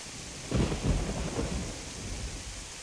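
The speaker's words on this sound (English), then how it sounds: "Yeah, the rain coming in sideways, the thunder." Sideways-driving rain and rolling thunder in the DayZ game: a steady rain hiss throughout, broken near the start by a loud, deep thunder rumble that slowly fades back into the downpour, with no talking.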